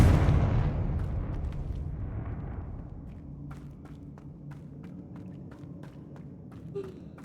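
Confringo blasting spell from Hogwarts Legacy detonating against spiders, opening with a loud booming explosion that rumbles and decays, followed by scattered sharp crackles and debris clicks as the blast fades.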